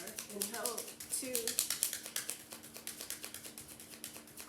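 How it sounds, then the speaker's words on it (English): Tarot-style cards being shuffled by hand, a rapid run of crisp riffling taps and flicks repeating close up, with a brief voice murmur near the start. "People always ask me too, why do I shuffle the cards like this?"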